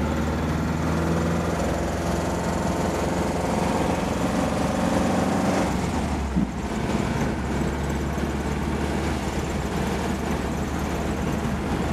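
Driving along in a Porsche 914, its Volkswagen engine gives a continuous buzzing, rumbling drone that shifts pitch partway through as if changing speed, close and steady throughout without speech.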